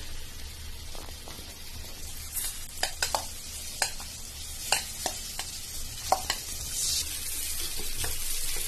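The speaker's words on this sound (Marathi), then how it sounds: "तांदूळ टाकल्यावर थोडंसं ढवळून घ्यायचं" Soaked rice is stirred into a pot of dal khichdi with Kolhapuri masala, a quiet background sizzle punctuated by sharp scraping and clinking stirs at irregular intervals, close up, with no talk.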